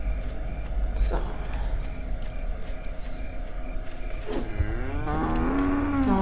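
Cows moo on a farm in long, low, drawn-out calls, one near the end loud and wavering, with steady background noise and some voice-like sounds mixed in.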